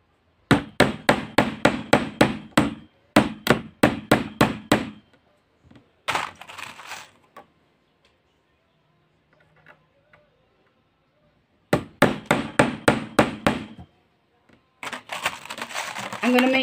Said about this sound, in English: just hammer it straight line.